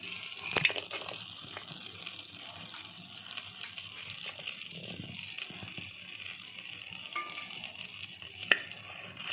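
Bay leaf, cloves, cardamom, cinnamon, garlic and ginger sauteing in a pan outdoors, a soft continuous sizzle broken by a few sharp clinks of a spoon stirring.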